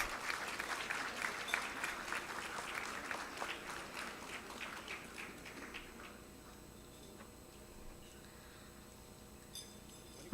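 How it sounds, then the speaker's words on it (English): Crowd applause at a medical college's annual College Day award ceremony in New Delhi: loud, dense clapping from many hands that gradually thins and fades into scattered claps and a quieter hall. "A big applause for the Department of Pediatrics."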